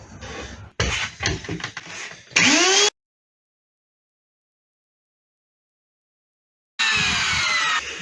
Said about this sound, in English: I'm going to jump straight to the roundover bit, which will put a nice rounded edge on the bottom of the guitar